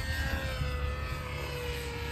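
A nitro-powered radio-controlled helicopter flies at the Lake Area Radio Kontrol Society club field, its engine and rotors giving a steady, loud, continuous drone with a high tonal whine throughout, with no talk.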